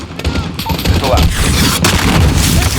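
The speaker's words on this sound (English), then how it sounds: "Missile out." A missile launch and explosion in the Call of Duty Modern Warfare video game arrive amid dense battlefield noise: rumbling blasts and rapid gunfire crackle, loud and continuous, with voices mixed in.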